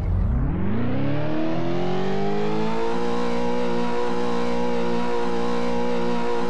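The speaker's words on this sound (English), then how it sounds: "And let's rev it a little." A car engine in the Roblox game Greenville revs up from idle, pitch climbing smoothly over the first few seconds and then holding a loud, sustained whine with no voices over it.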